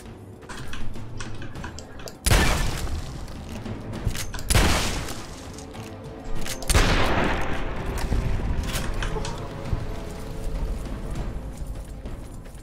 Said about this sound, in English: I do like this shotgun for the sheer amount of firepower it has.